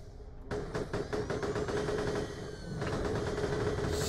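Rapid, steady automatic fire from a spin gun in the video game Borderlands the Pre-Sequel, a loud continuous rattle of evenly spaced shots with a whirring tone underneath, lasting several seconds.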